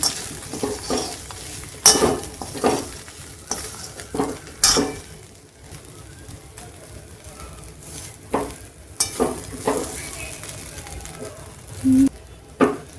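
Poha being stirred and mixed in a pan, with repeated scraping and clinking of a spoon against metal over a soft frying sizzle, in irregular bursts close up.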